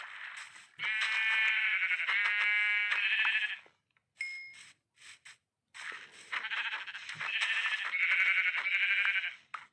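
Sheep in Minecraft bleating loudly and close in two long bursts, each a wavering nasal bleat stretched over several seconds, separated by a short lull with a couple of faint chimes.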